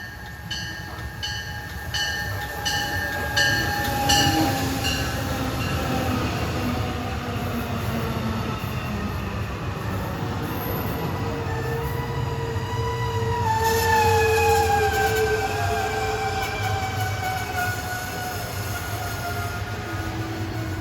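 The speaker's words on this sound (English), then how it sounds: "Here comes MARC train 517 en route from Perryville, Maryland to Washington, D.C." A MARC commuter train on the Penn Line between Perryville, Maryland and Washington, D.C. passes close by with a loud, sustained rumble of wheels on rail, with sounded horn tones and a gradual pitch shift as it goes by.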